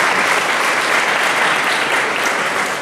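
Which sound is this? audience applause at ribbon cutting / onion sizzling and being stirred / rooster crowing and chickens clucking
audience applause at ribbon cutting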